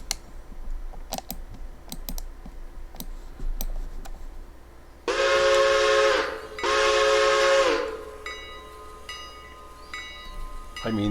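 Steam locomotive whistle in the Railroader game sounds two long, loud blasts with a short gap between them, rising over quieter clicking and ambient background noise.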